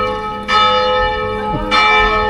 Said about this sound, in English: How many times is that bell gonna chime? It's noon, maybe 12 times.